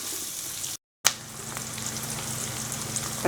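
Onions and ground masala sautéing in a pan for a varuthu araicha chicken roast, giving a continuous sizzle with a short dropout and a clatter of stirring; no one speaks.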